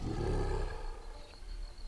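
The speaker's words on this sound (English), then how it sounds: "Sounds like a lion to me." A big cat, thought to be a lion, roars in the jungle: one deep, rumbling roar that fades into a lower growling tail, with no talk over it.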